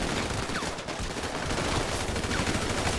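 A sustained GTA 5 shootout with heavy bursts of automatic and overlapping gunshots that crackle steadily for several seconds, close and loud, with no voices.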